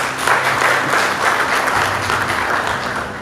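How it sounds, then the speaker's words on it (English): A meeting audience applauds steadily through the whole stretch, a dense wash of hand claps from many people at a generation, transmission and distribution sector planning meeting, loud and even before easing slightly at the end. "So a round of applause for us."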